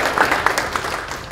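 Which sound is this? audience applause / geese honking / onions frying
audience applause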